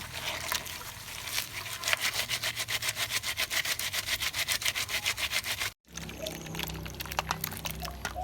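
Yanang leaves are squeezed by hand in water, making close, rhythmic wet rubbing strokes in a fast regular series. A short gap follows, then looser splashing and sloshing.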